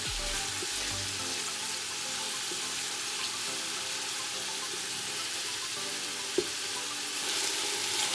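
Chicken searing with minced garlic in an Instant Pot, a steady, close sizzle and hiss of frying that runs continuously, with a brief clatter partway through and the sizzle swelling slightly near the end.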